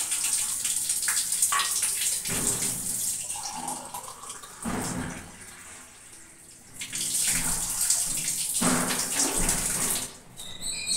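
Water runs from a kitchen tap into a vessel being measured for tea, a steady close gush that stops and starts in several bursts, with a brief higher trickle in between.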